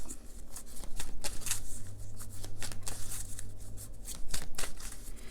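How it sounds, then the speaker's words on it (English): A deck of tarot cards is shuffled by hand close up. Quick papery riffles and rustling bursts repeat over several seconds above a faint low hum, with no talking. "I think I'm being guided to shuffle the deck and pull the first three."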